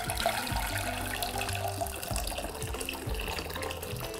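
Tap water runs steadily into a small pot set to boil for broccoli, a continuous close splashing stream heard alone alongside faint background music.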